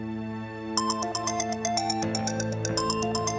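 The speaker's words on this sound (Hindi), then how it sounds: "किसका फोन है?" A mobile phone rings with a repeating electronic ringtone melody, steady and fairly loud, over a low background bed of music in a home setting.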